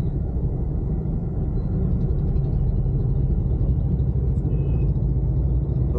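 Road traffic rolling through a busy city intersection in Hisar, India, once police release it: a loud, steady low rumble of passing cars and trucks with no break and no talking.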